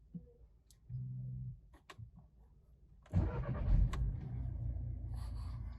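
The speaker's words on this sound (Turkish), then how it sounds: "Şimdi frene basıyorum, aracımı çalıştırıyorum ki fren pompası çalışsın." A car's engine is started with the brake pedal pressed during a home brake pad replacement on a car with an electric parking brake; a sudden burst of cranking turns into a steady idle rumble close by after quiet mechanical clicks.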